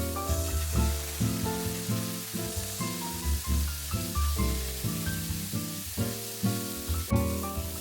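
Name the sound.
long beans sizzling in wok after adding Shaoxing wine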